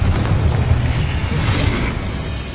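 A Confringo fire spell bursts in Hogwarts Legacy, a loud, deep boom with rumbling low end that rolls on and slowly fades over a couple of seconds.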